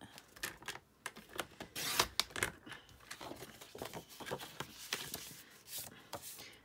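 Designer series paper scored and cut on a blade trimmer while making a card base, busy close clicking, sliding and crinkling scrapes that run unevenly throughout with no talking.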